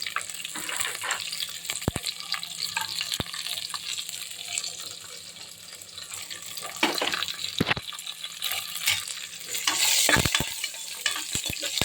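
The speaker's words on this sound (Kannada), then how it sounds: "ಗೋಡಂಬಿ ಹಾಕಿ ಚೆನ್ನಾಗಿ ಫ್ರೈ ಮಾಡಿ" Cashews frying in oil in a pan for pongal, a steady close sizzle running throughout, with scattered clinks and scraping stirs and a brief louder burst near the end.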